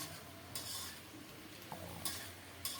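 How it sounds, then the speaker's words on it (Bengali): Onion stalks and potatoes frying in a pan seasoned with fenugreek, salt and turmeric make a quiet, low sizzle, punctuated by a few brief scrapes and clinks of a spatula against the metal. "পেঁয়াজ কলি আর আলু ভাজা করছি"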